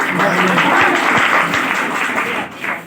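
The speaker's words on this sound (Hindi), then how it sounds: "या कलाकार को मिलती हैं तालियां" An audience applauds a performer at a school event in Badigarh, Afzalgarh, a dense, steady wash of clapping running the whole time with a few voices mixed in.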